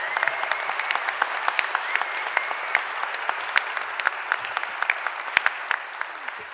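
Steady applause from a sizeable conference audience, dense clapping that holds at an even level throughout, with no voices standing out.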